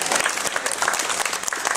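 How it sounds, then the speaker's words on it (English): An afternoon crowd at a Prince George's County Council event marking new fire and EMS apparatus breaks into loud, sustained clapping, dense and even from start to finish. "Let's give this council a round of applause."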